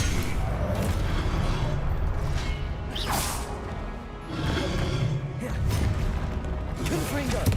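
Spell effects from the Hogwarts Legacy video game, with Expelliarmus cast amid repeated whooshing swishes and crashing impacts layered over a dense, continuous game soundscape, with a voice speaking over it.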